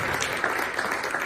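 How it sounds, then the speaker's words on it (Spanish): Applause from a church congregation during a sermon: dense, steady clapping from many hands filling the space, loud and continuous throughout. "Denle palmas al Señor."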